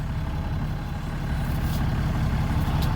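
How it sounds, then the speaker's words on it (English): A truck engine runs at idle in a driveway during a power steering fluid change, a steady loud low diesel-like rumble with no break and no voices. "I'll put the cap back on and I'll start the truck."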